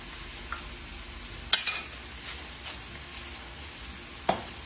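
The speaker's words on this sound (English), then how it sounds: "Just going to give this a quick stir." Spinach with cream being stirred in a hot pan, a soft continuous sizzle broken by a couple of sharp scrapes and clacks of the utensil, with no voices.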